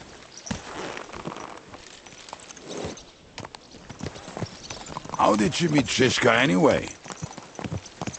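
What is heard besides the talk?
horse hooves clip-clop in Kingdom Come: Deliverance II video game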